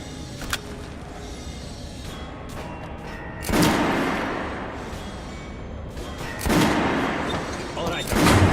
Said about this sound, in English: I always carry a pistol. Sturdy, reliable, and accurate. Fire!